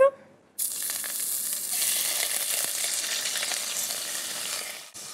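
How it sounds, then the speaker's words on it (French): Squab carcasses browning in olive oil give a loud, steady sizzle that bursts in after a short quiet start and crackles evenly throughout, close by, with no talking. "Je mets donc à revenir mes carcasses dans de l'huile d'olive."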